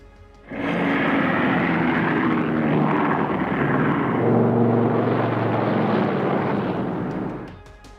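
A North American AJ Savage carrier bomber, with two piston propeller engines and a single jet engine in the center of the fuselage, makes a loud, sustained engine roar. It swells in quickly and holds steady for several seconds before easing off, with no speech.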